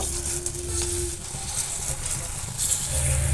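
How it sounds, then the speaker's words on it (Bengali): Small, flattened potato fritters (aloor bara) fry in hot oil, giving a steady, dense sizzle that crackles continuously for a few seconds. "আর তেলটা গরম হয়ে গেছে। এবার আমি বড়াটাকে ভেজে নেব।"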